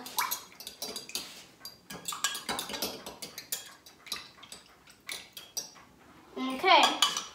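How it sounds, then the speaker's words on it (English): A mixture is whisked in a bowl with quick, irregular metallic clinks and scrapes against the sides, close up and moderately loud, with a busier burst near the end. "I'm going to whisk again until it's nice and a nice peachy colour"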